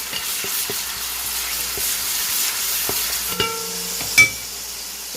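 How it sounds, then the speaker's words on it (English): Onion being stirred in a pan while cooking spaghetti sauce, a steady soft sizzle of frying with scraping stir strokes and a couple of sharper utensil clinks near the end, no talk. "So next is my onion. This is not a recipe that wastes your time. Stir, stir, stir."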